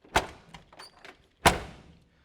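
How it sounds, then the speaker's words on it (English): A 1984 Chevrolet C10 pickup door with brand-new weather stripping shuts twice, each a sharp close thud about a second apart, with some faint rattles and handling noise between them. "And that's why the door shuts weird, because the weather stripping is brand new."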